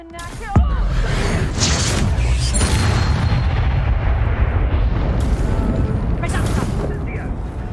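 Confringo fire spell blast in Hogwarts Legacy, a sharp boom followed by a sustained roaring, rumbling burst of game effects that fills most of the clip, loud and close.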